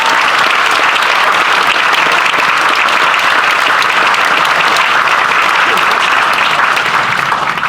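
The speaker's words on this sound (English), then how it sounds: "So a big round of applause for Nick and Chris" Loud, dense applause from a large live audience at a Birdfair quiz show, cheering contestants Nick and Chris, a sustained roar of many clapping hands held at an even level from start to finish.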